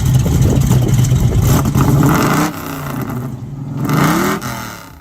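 A Ford Boss 429 V8 from a 1969–1970 Mustang revs hard, a loud, close growl whose pitch climbs steadily, then drops and rises again in a second pull.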